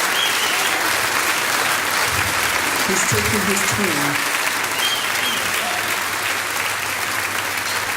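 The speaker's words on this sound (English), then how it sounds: "Please continue to clap as he comes." A large crowd applauds continuously at a royal anniversary ceremony as a speaker walks up to the podium, a dense, even roar of clapping that holds throughout, with someone briefly talking over it.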